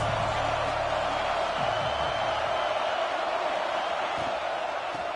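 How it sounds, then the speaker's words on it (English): A college football stadium crowd at a Virginia Tech versus Georgia game roars continuously as a dense, loud wash of voices, holding steady for the whole stretch. "This crowd trying to make life miserable for this offense."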